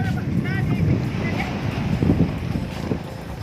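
Wind rushes steadily across the microphone while a voice speaks intermittently underneath, with a faint watery wash in the background.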